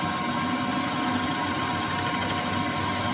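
A lathe facing off the end of a 12L13 steel bar, giving a steady close mechanical hum with a faint high whine and a constant even drone, with no talking.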